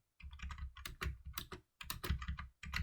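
Computer keyboard keys, arrow keys and the space bar, are pressed in quick clusters of clicks separated by short pauses, close-up and clear with no voices.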